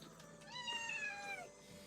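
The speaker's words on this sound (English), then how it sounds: "What are you meowing for?" An indoor pet cat gives a single drawn-out, rising-then-falling meow, close by and fairly soft, with no voices over it.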